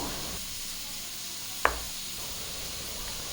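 Leftover rice being stir-fried with onions, carrot and capsicum in a pan makes a steady, moderate sizzling hiss, with a single sharp clink of a utensil midway.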